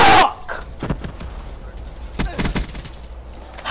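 Rapid gunfire from a first-person shooter video game, a cluster of sharp shots at the start followed by scattered bursts under a noisy background.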